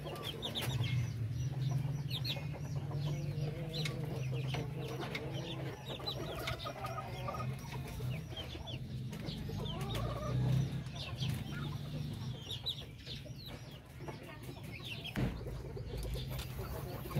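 Darag native breeder chickens cluck steadily throughout a backyard farm at feeding time, a dense, continuous chorus of overlapping calls close by with occasional louder squawks.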